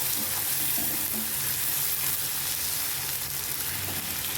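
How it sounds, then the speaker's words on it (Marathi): Sliced tomato sautéed in a pan for upma, a loud dense sizzle filling the whole stretch with faint stirring scrapes underneath, close and continuous. "एक मी उभा कट करून टमाटर घेतला होता तो याच्यात टाकून द्यायचा आहे आणि हे छान हलून घ्यायचे बघा"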